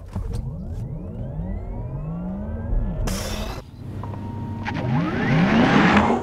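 A Porsche Taycan Turbo S electric car launching hard with launch control: a rising electric whine sweeps upward with road and wind roar building, a brief rush of noise midway, then climbing again, loud and close from inside.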